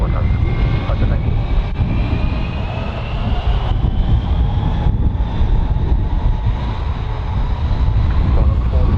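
Monarch airliner taking off from runway 15 at Birmingham Airport, a steady loud jet engine roar with a slowly rising whine, continuous throughout, with faint radio voices in the background.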